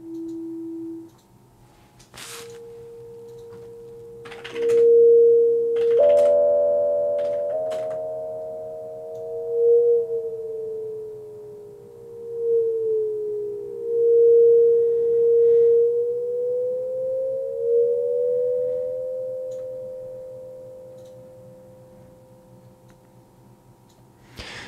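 A basic sine-wave synth module built in MSDP plays a pure sustained tone with stepping and gliding pitch, holding clean and steady for over twenty seconds with a few faint clicks, no voices.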